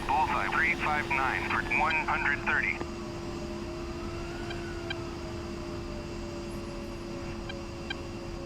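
An A-10C jet's engines hum steadily in the DCS flight simulator as throttle is eased up for taxiing, a sustained drone with faint whine, while someone talks over the first few seconds.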